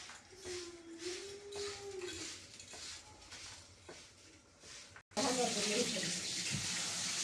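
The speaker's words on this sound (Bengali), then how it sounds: "এই জল নিয়ে এখন ফুলগুলো ধুয়ে নিচ্ছি।" Drumstick flowers rinsed in a sink under running water, a soft splashing trickle with faint voices in the background, then a louder gush of tap water for the final couple of seconds.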